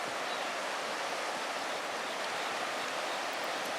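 The Kamo River in Kyoto, flooded during typhoon heavy rain, rushes in a steady, dense broadband roar of torrential water, unbroken and moderately distant with no voices.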